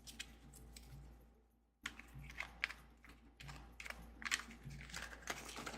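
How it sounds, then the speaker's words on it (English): An oracle card deck being shuffled gives quick, crisp clicking and riffling bursts in uneven clusters, with a brief pause early on, fairly close and quiet. "I think I'm going to split and pull with this deck because it's not really shuffling well."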